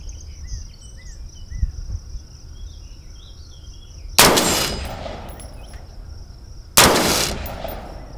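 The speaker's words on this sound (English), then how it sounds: "Let's shoot that middle white plate hanging there." Two loud 5.56/.223 rifle shots crack out several seconds apart at a steel plate target hanging outdoors, each a sharp blast with a ringing tail, over a constant chorus of insects.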